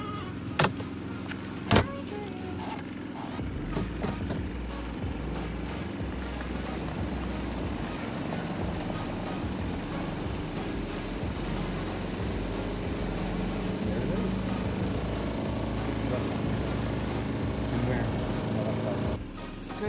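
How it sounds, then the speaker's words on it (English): A Costway portable RV washing machine runs its spin cycle with a steady low hum and whir, near and continuous, with a couple of brief knocks at the start and faint speech in the background. "I'm just putting the rest of the load into the spin cycle"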